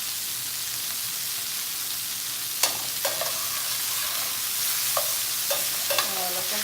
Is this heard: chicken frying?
yes